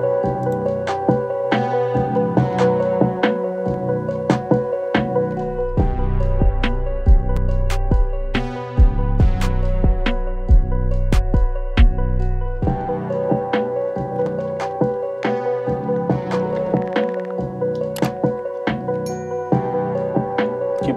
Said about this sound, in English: Added a nice little counter melody.